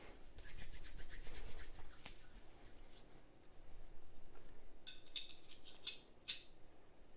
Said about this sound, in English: Now I gotta rub it in my hands because my hands will be a little bit slippery.